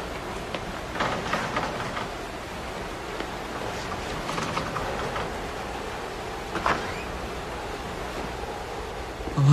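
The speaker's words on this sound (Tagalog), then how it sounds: "Ay, naku, lakas talaga ng ulan." Heavy storm rain pours down in a dense, steady roar of noise with no pauses, loud and close throughout and with no voices over it.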